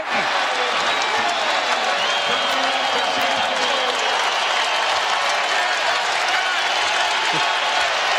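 A basketball crowd at an NIT second-round game between Providence and Robert Morris cheers and applauds in a loud, continuous wash that holds steady for several seconds, with whoops rising above the clapping.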